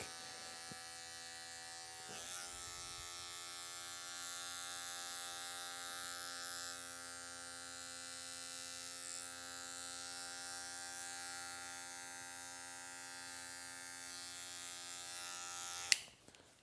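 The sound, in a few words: electric hair clippers trimming hair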